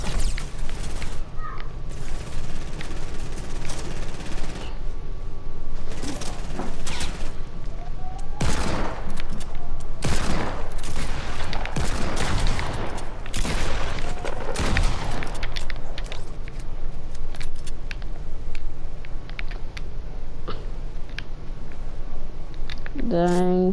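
Rapid video game gunfire from two shooters, bursts of sharp loud shots clustered over several seconds amid constant game noise, with a player talking throughout.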